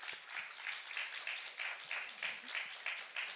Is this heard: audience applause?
yes